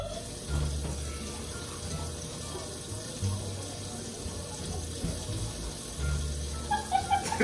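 Water from a kitchen sink faucet runs into the basin in a steady, close splashing stream while a bath is given in the sink, with short bursts of voices over it.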